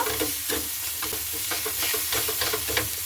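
Salt, turmeric and chili powder with tomato are stirred in a hot pan, a close steady sizzle broken by scraping spoon strokes at an uneven rhythm, no voices.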